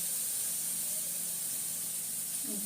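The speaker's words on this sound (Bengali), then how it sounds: "তাওয়াটা গরম আছে জল দিয়ে দিলাম" Water poured onto a hot tawa griddle gives a steady, soft hiss of steam that holds for a couple of seconds, fairly quiet, with a faint sizzle rising near the end.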